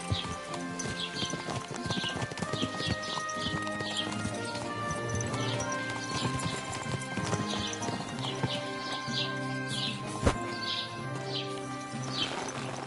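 Steady hoofbeats clip-clop at a walking pace under a layer of music and birdsong, with a horse whinnying briefly partway through.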